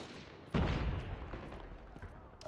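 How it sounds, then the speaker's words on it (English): Grenade blast in the Call of Duty Mobile video game: a sudden loud boom hits partway through, then a rumbling decay under ongoing battle noise. "Grenade out!"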